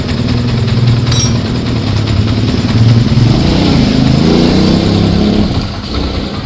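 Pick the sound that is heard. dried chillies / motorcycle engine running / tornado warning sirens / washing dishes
motorcycle engine running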